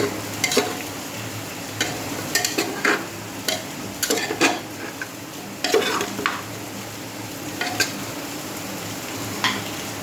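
Goat meat sautés in a pan under a low steady sizzle, punctuated by frequent scraping and clinking as a spatula stirs it at close range.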